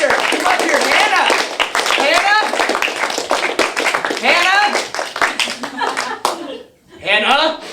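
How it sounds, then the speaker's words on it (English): An audience at a sketch comedy show claps and cheers for a snowboarder. Brisk, close hand-clapping runs throughout under loud shouting voices and chatter, then briefly drops out before the voices return. "Applause for Hannah Teeter"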